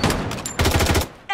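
Loud, close bursts of rapid automatic gunfire in the PC shooter Blood Strike, firing in quick succession before a brief pause and a final shot.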